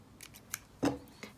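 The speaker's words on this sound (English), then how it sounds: "I'm just gonna cut the tail at the very base." Scissors snip the thread tail at the base of a beaded ring, a few faint light clicks followed by one clearer close cut, quiet and without talk.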